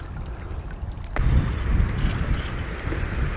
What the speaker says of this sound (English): This wind's getting up now.